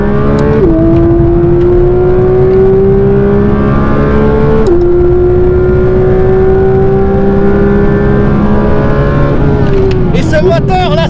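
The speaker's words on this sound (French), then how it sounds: "ce moteur là, ce moteur qui hurle à la mort derrière" Engine of a Porsche 992 GT3 RS screaming loud and close at high revs, pitch climbing steadily with brief drops at gear changes, continuous throughout.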